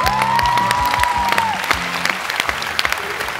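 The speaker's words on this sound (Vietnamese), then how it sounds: "Thôi được rồi, vỗ tay cho bé nào." A studio audience on a Vietnamese TV game show claps for a child. The applause is loud and close, with a sustained electronic tone at the start and crisp individual claps thinning out toward the end.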